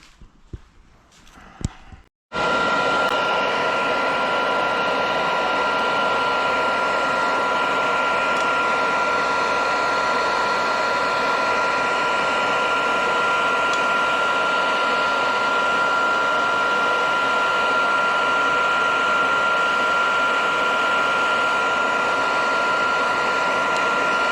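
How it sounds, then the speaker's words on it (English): A hair dryer starts after a couple of seconds of near-quiet and blows in a steady, loud whine while warming the door seals on a 1961 VW Beetle. "time to go in with the hair dryer on this guy"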